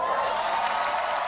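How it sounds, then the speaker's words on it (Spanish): An audience at the Oscars gala applauds Javier Bardem, giving steady, dense clapping with crowd noise at an even level for the whole moment. "fue muy aplaudido"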